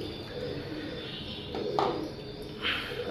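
Pet pigeons coo softly at dusk as they are fed, low rolling coos rising here and there over a quiet background, fairly faint and close by.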